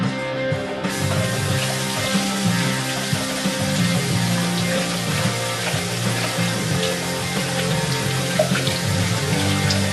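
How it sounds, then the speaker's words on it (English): Hands being rinsed under a running tap during a pour-painting session: a steady splashing rush of water with small drips, continuous and fairly close, no voices. "let me rinse my hands off."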